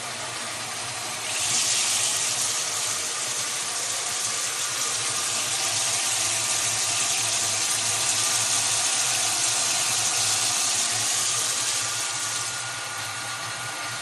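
Water runs from a van shower head fed by an immersion pump, a steady hissing spray over a low pump hum that stays constant for most of the stretch before easing slightly near the end.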